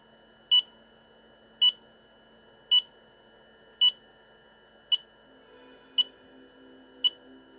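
A BetaFPV LiteRadio 2 SE low-voltage alarm sounds seven short, sharp beeps evenly spaced about a second apart over a faint background hum.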